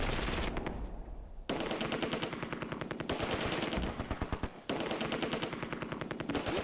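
Sustained World War II machine gun fire in the Close Combat: A Bridge Too Far strategy game at Oosterbeek, long rapid bursts with brief gaps, loud and dense, no talk.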